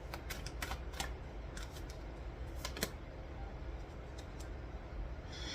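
Tarot cards are shuffled in quiet, irregular bursts of crisp riffling clicks, faint and close, repeating several times over a low background hum.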